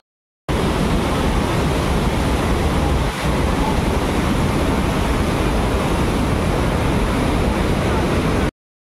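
A steady, loud roar of rushing water fills the clip as it pours through opened dam gates of the Musi Project in heavy rain, broad and continuous, with wind buffeting the microphone.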